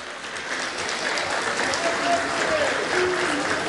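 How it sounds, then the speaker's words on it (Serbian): An audience at a saz music festival evening applauds Dr Hašim Muharimović with steady, dense clapping that fills the room, a few faint voices and a tonal sound briefly audible beneath it. "Ja vas molim za jedan veliki aplauz za našeg doktora Hašima Muharimovića."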